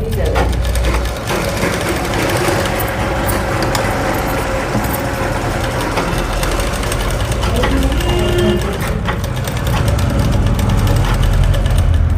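A domestic sewing machine stitching a lined blouse runs with a continuous whirring, mechanical hum at close range, its motor and needle steady throughout while someone talks over it.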